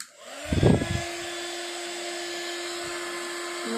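A heat gun blows hot air over Distress Oxide watercolour paint on a handmade card, with a sharp start-up rush followed by a steady, even whine that holds loud and close to the end, alone without talk.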